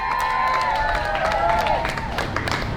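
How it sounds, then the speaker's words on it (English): An audience applauds musicians at a live music event: dense, steady clapping mixed with cheering and whistle-like tones, loud and close, running throughout. "join me in giving them a big round of applause"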